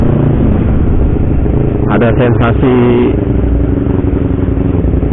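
Honda CBR250RR 250 cc motorcycle engine running steadily while riding, a constant close drone with a brief rise in revs, under someone talking throughout.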